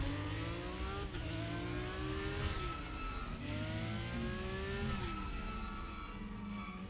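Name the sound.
brakes squealing on a Porsche 911 GT3 in RaceRoom video game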